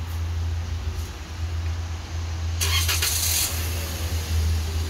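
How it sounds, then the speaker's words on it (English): A 2015 Toyota Corolla engine, triggered by a CompuStar remote starter, cranks briefly with a short burst of noise midway, then idles with a steady, low, close hum throughout. "That'll activate the remote starter."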